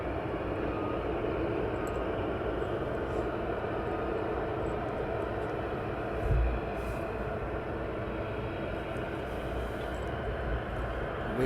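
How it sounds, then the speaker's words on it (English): A West Atlantic cargo aircraft at East Midlands Airport produces a steady, distant engine roar that holds evenly throughout without pause. "The next two aircraft are operated by West Atlantic."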